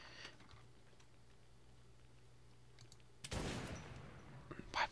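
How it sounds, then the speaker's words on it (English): A gun fires in the video game Fallout New Vegas: one sudden, sharp gunshot cracks out after a quiet stretch of faint background, followed by a few smaller clicks and thuds. "Why would you shoot, you dumbass?"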